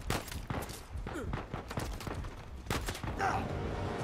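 Gunfire in the video game Uncharted 4, with repeated sharp bursts of shots and thuds spread across a busy mix, while someone talks over the action.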